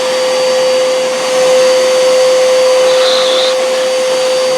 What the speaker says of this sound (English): Dust collector working or what?